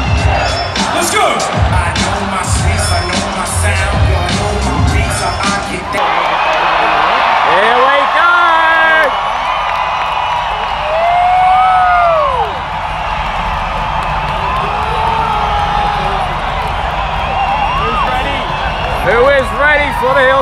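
A packed Perth concert crowd roars and chants loudly for the first few seconds, then the dense crowd noise carries on beneath close, excited talking.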